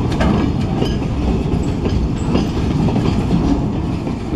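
A long freight train with strong locomotive power rolling past near the East Kingsford train trestle, a loud continuous rumble with rhythmic clickety-clack of wheels over rail joints, close and sustained throughout.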